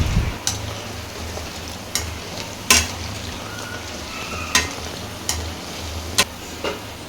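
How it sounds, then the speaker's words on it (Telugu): Punugulu fritters deep fry in hot oil with a steady, close bubbling sizzle, punctuated by several sharp ticks and clinks from a utensil, with nobody speaking. "పునుగులు అనేది వేసిన తర్వాత ఈవెన్గా ఇట్లా అంటూ మంచిగా డీప్ ఫ్రై చేసుకోవాలండి."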